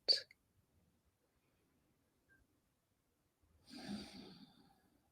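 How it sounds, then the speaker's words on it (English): Soft breathing in and out during a guided meditation, a faint breath at the start and a longer, gentle exhale later, close and quiet with long silence between. "So just breathing gently in and out."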